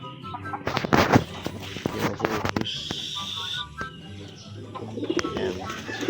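Racing pigeons coo softly among other birds at a club training loft, with scattered chirps, clatter and bursts of noise around them.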